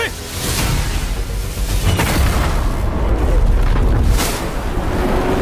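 A deep, rumbling boom rolls on with sustained low-end roar and whooshing bursts, loud and continuous throughout.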